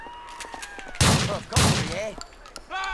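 Two loud gunshots from a weapon in Grand Theft Auto 4, sharp bursts about half a second apart, followed by softer game sounds and faint background effects.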